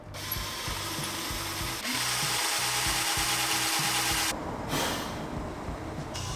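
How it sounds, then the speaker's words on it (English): A drill bores pilot holes through a pocket-hole jig while a camper van is framed, a continuous grinding, ratcheting whir with a short pause partway and a brief dip near the end. "So then we used the crack jig to pre-drill all these holes."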